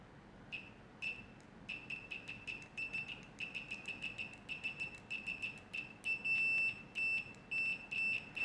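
A UNI-T 125C multimeter in continuity mode gives repeated short, high-pitched beeps, irregular at first, then steadier and longer toward the end, over a faint hiss.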